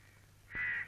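A crow caws once, a short, fairly loud call near the end, over a low steady background hum.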